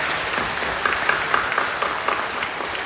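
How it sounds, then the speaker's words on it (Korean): A church congregation claps in a modest, continuous round of applause, a soft wash of many hands with a few sharper claps standing out, heard at a moderate distance. "박수로 격려해 주시죠."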